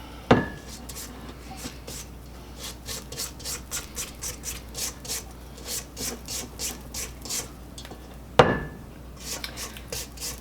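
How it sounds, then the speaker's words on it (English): A spatula scrapes down the sides of a mixing bowl of white chocolate cranberry orange cookie dough in steady, rhythmic strokes. A sharp clank sounds at the start and another near the end. "So I'll go ahead, scrape down the sides of the bowl too."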